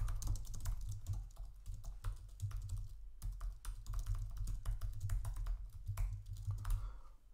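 Rapid, steady typing on a computer keyboard while entering example JavaScript code, close and clear clicks with brief pauses and a constant low hum underneath, no talking.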